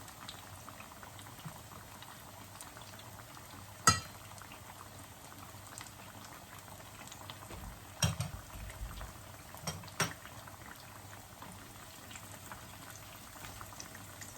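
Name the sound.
bananas frying in oil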